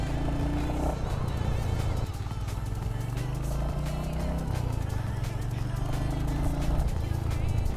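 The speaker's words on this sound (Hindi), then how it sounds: "भाई एग्जॉस्ट साउंड भी बहुत तगड़ी है इसकी" A new Royal Enfield Hunter 350 motorcycle, ridden in third gear, throbs with a deep, close exhaust rumble whose pitch rises and falls as the throttle changes, running steadily throughout.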